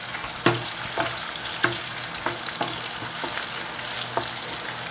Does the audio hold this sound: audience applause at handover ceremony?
no